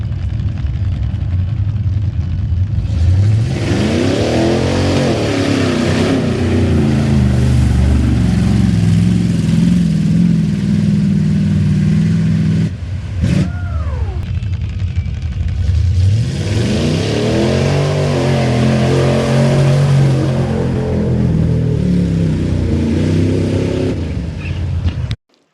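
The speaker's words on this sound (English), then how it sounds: "Here's Sterling's first run in his Blazer." Chevrolet K5 Blazer racing in mud at Drummond, its loud engine roaring and revving hard through two long runs close by, with a short drop and a quick pass in between.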